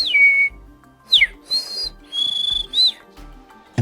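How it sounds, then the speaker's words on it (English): An oriental magpie robin sings in Balibada National Park before dawn, a series of clear whistled notes and rising and falling slurs separated by short pauses, loud and close with no voices. "it was an oriental magpie robin, a bird I'd never seen in the wild before"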